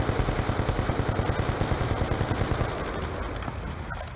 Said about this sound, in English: Taking sniper fire from the catwalk!